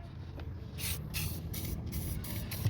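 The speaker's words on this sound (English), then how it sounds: "Spray a little bit the AWD-40." Several short bursts of WD-40 lubricant sprayed from an aerosol can onto a car wheel hub assembly, close and moderately loud, with brief pauses between hisses.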